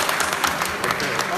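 Brief burst of audience applause at a reunion of former players in Luxembourg, dense and steady clapping filling the short moment at moderate loudness.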